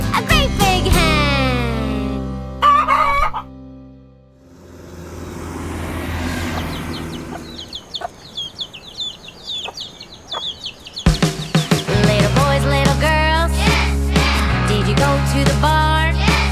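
Chickens cluck and a hen calls on a farm in a preschool counting song, the birds sounding loud and close in broken bursts between stretches of music.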